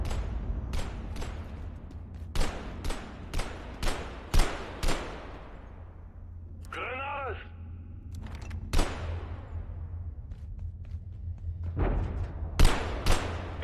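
Scattered gunshots ring out one after another in the video game Abiotic Factor, sharp broadband cracks at irregular intervals over a steady low hum, with a brief tonal electronic warble in the middle.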